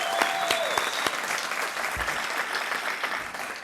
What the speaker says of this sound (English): How about a round of applause for the people who put the breakfast together tonight